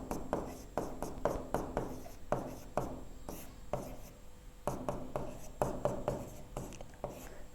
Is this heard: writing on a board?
yes